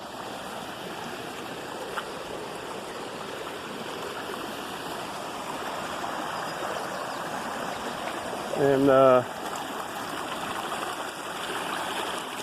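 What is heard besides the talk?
rainwater rushing down a garden ditch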